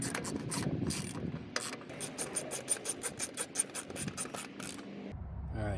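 Hand ratchet tightening spindle bolts on a mower deck during a rebuild without power tools, a close run of quick rhythmic clicks in bursts with short pauses.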